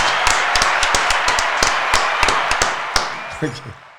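Sharp hand claps ring out in an irregular series over a steady background murmur, with a few louder slaps near the end, in a podcast studio setting.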